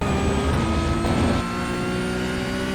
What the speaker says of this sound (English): we're full throttle here